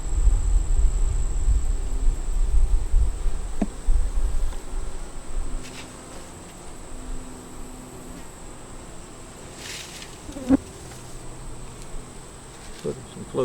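Bees buzz steadily and softly throughout, a low droning hum with occasional small knocks and rustles nearby.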